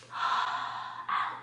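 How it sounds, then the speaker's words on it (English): A person takes a slow, audible deep breath in through the nose, close and breathy, followed by a second shorter intake. "Deep breath in."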